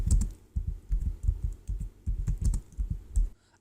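A search query is typed on a computer keyboard as a steady run of quick, soft key clicks with uneven rhythm and a few heavier taps. The typing is close and fairly quiet, with no voices.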